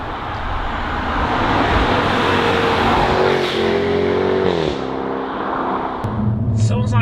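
A Jaguar F-Type P450 accelerating hard at full throttle after a launch, the engine note rising and pulling strongly with gear changes, loud and close throughout.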